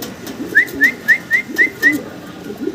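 Rhythmic low cooing of pigeons, about six soft repeated calls close by, with a faint higher whistle-like note over each coo.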